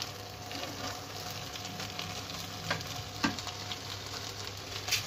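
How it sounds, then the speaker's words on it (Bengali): Cashews and raisins stirred gently into prawn pulao in a pot, with a soft, steady sizzle and occasional light scrapes of the spoon against the pot, moderately quiet and with no one talking. "এই সময় আমি কাজু কিশমিশগুলো দিয়ে দেবো, একটু হালকা হাতে নেড়ে দেবো।"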